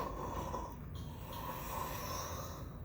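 A man imitates snoring with his voice, a steady low nasal rasp that runs on continuously, quiet and close.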